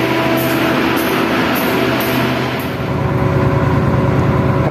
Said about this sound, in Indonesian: Kereta api komuter dari stasiun Surabaya Pasar Turi Sidoarjo Indro PP.